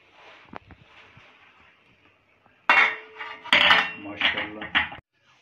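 A lid lifted off a pot of steamed keema matar pulao rice: a faint scrape, then several loud metallic clanks and clinks of the lid and pot over a few seconds.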